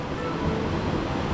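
Water from a waterfall and small natural springs at Morang Waterfall rushes in a steady, close broadband wash with no breaks.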